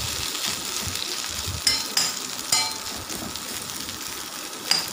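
Chunks of elephant foot yam fry crisp in oil as they are turned, a soft sizzle punctuated by several light metallic clinks of the spatula against the pan.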